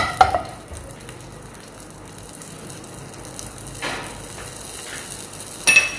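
Mixed vegetables sautéing together in a pan, a steady low sizzle with occasional stirring scrapes and a few clinks against the pan, heard close with no talking.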